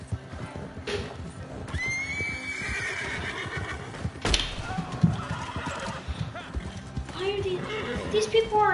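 Horses neigh and whinny loudly over busy galloping hooves and background commotion in Red Dead Redemption, with a voice talking intermittently through it.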